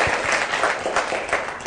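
Schoolchildren in a class clap together to cheer a student group. The applause is steady and fairly loud, with many overlapping hand claps, and it runs the whole time without a break.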